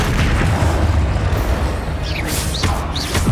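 A Confringo spell explosion from the Hogwarts Legacy game lands as a loud, rumbling boom. Swooping, whistling magical tones rise and fall over the blast's tail.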